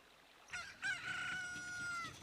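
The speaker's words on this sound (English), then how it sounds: "Cock-a-doodle-doo." An in-game rooster from Zelda Ocarina of Time on the N64 crows once, a clear, drawn-out cock-a-doodle-doo with rising opening notes and a long held tail, heard alone and fairly close.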